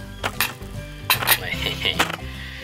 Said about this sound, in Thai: นี่ใช้ช้อนส้อมนะครับ